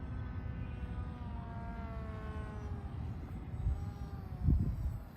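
An RC airplane powered by a 1400 kV electric motor flies overhead with a steady, thin motor whine whose pitch drifts as it moves, over constant wind rumble and a louder gust near the end.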